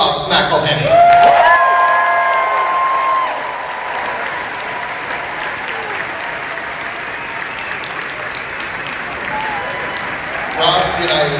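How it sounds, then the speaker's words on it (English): Comic-Con panel crowd in a large hall erupts in loud applause and cheering for a panelist's introduction, swelling early and then holding as a sustained roar of clapping with whistles. "did I wait long enough for the applause to swell?"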